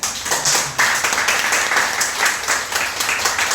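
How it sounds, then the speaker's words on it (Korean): A church congregation at a Korean Sunday worship service bursts into steady, dense applause, many hands clapping together close and loud without pause. "박수로"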